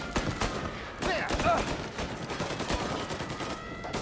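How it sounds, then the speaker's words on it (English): Enemy gunfire crackles in Mafia Definitive Edition, with scattered overlapping shots and bursts near a hotel amid a dense, noisy battle ambience, sustained throughout with no clear pause. "Oh, they are firing from there."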